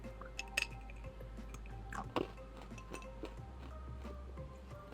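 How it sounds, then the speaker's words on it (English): Ice cubes crunching and clinking in a drink, a few sharp crisp bursts and soft wet chewing sounds close to the microphone over a low steady hum, no talking. "I'm leaving the ice crunch in there just for you headphone users"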